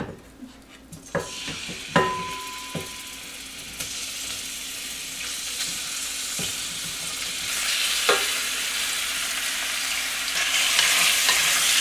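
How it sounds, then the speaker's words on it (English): Beef browns in a very hot pan on high heat, a continuous sizzle that grows louder and hissier over time, punctuated early by sharp pan clanks and utensil taps, with no talking. "I'm just going to add my beef and brown it."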